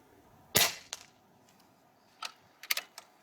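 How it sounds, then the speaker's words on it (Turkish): Shots from a Kral Puncher Armour .22 (5.5 mm) bullpup PCP air rifle firing JSP Exact Jumbo Heavy diabolo pellets: a loud sharp crack, then a few fainter snapping reports spaced across a few seconds with quiet between. "12 atış yapıyorum biraderim"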